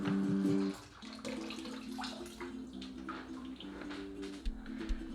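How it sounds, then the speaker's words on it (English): Hot water runs from a kitchen tap into a sink, a steady splashing rush that starts with a louder gush and settles into a continuous pour, close by with no voices. "I'm going to fill the sink with hot water."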